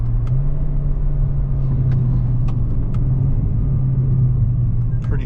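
A 2025 Toyota Corolla XSE Hatchback engine hums steadily from inside the cabin as paddle-shifted downshifts hold a low, even drone with slight shifts in pitch.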